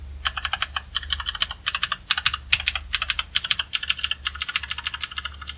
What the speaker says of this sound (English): you can really hear the click on that